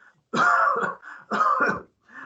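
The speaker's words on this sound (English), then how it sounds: "it's now a persistent cough getting worse and worse" Two harsh, close persistent coughs in quick succession, each rasping with a throaty catch, followed by a softer third starting at the end.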